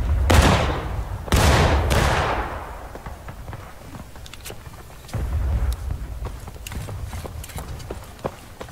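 Musket fire in the Civil War game War of Rights, on Bolivar Heights, opens with three loud close shots, then a scattered crackle of distant gunfire and one more nearby shot midway.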